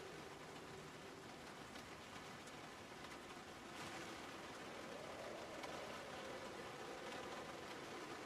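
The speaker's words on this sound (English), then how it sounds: "I think I could listen to PZ, like an hour-long video of PZ Rain." Steady rain falls in the Project Zomboid video game, a soft, even hiss that continues unbroken for several seconds with a faint low hum rising slightly in the second half; no one speaks.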